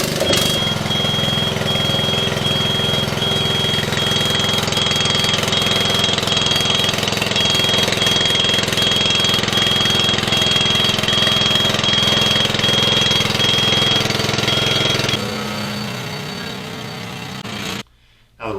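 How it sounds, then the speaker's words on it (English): A lawnmower engine drones steadily and loudly nearby, then fades and cuts out near the end. "He's gone to mow some lawn on his new lawnmower."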